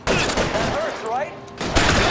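Gunfire crackles through a shootout in the video game L.A. Noire, a loud dense fusillade of rapid shots that briefly dips before resuming, with a voice calling out in the middle.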